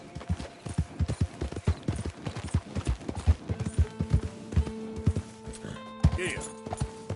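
Horse hooves galloping in Red Dead Redemption 2, a rapid rhythmic clip-clop close up and fairly loud, with a rider's voice calling out over the hoofbeats.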